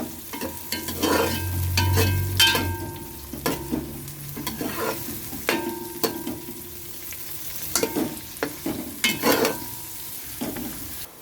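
Two large onions fry in oil in a pan for Hyderabadi chicken, a soft steady sizzle broken by repeated scraping stirs of a spoon, close and alone.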